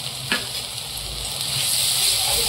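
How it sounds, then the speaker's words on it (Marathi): Homemade black masala with ginger and coriander sautés in a pan, a loud, close, steady sizzle with a light stirring scrape, growing slightly brighter toward the end. "ते पण असं छान परतून घेऊ आपण"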